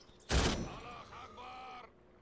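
A single sharp gunshot in the war video game Call to Arms bursts out, followed by a faint echoing tail and some muffled voices in the background.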